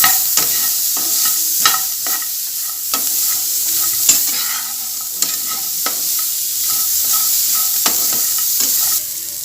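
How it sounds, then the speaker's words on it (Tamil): Grated coconut sautéing in oil in a pan while being stirred, a steady close sizzle punctuated by repeated scraping and clinking strokes of the spoon, with no voices. "நல்லா வந்து கலந்துக்கோங்க, வணக்கிக்கலாம். எண்ணெயில் நல்லா வணங்கட்டும்."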